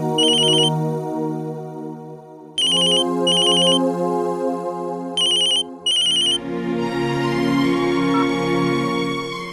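A phone ringtone plays loud and close, a bright electronic melody repeating in bursts with brief gaps, then shifting into a fuller sustained phrase, with no talking over it.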